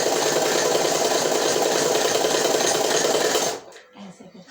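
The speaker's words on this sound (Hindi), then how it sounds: "तो देखिए अब हम इसमें सिलाई लगा रहे हैं" A sewing machine stitches a half collar on a kurti in one steady, fast, whirring run close by, then stops abruptly, leaving faint handling noises.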